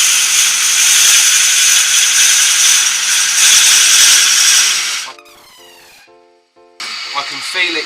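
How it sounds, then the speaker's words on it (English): Hollowing tool inside a wooden piece spinning on a lathe, giving a loud steady hissing, rasping grind as it catches and rubs the side wall, which stops abruptly, then a brief whirring spin-down before cutting resumes. "I can feel it catching, and as you heard there, it's getting hot, so it's beginning to rub more on the side of the piece"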